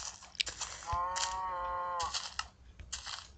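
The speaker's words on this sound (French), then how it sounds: "C'est une vache." A cow in the video game Minecraft lets out a single drawn-out moo that sounds near and clear, surrounded by soft clicks and faint game noises and with no talking.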